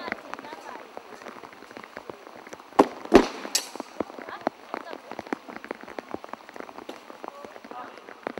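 Heavy rain pelts a slippery grass field during armoured combat at a medieval fair, a continuous patter of sharp drops with a couple of louder cracks, heard under a commentator talking.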